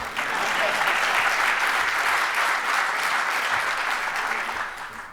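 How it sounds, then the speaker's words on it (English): Sustained audience applause swells during a Chicago mayoral speech on housing, a thick, even roar of many hands clapping for several seconds before tapering off slightly. "We are working with you can clap for that."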